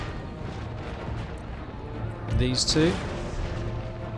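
Cannons firing round shot in Empire: Total War, a low rumble of distant artillery booms under steady battle noise, with a louder cluster of shots near the end while someone speaks briefly.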